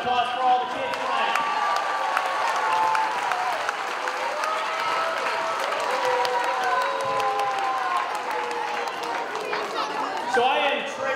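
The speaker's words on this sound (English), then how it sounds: "have a nice round of applause for all the kids tonight" Audience applause and chatter fill a school auditorium after the children's carol concert, a steady wash of many hands clapping with crowd murmur throughout, lifting slightly near the end.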